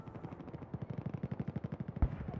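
Rapid automatic gunfire in a first-person shooter video game, a dense run of about twenty evenly spaced shots with a sharper, louder crack near the end, continuous and without speech.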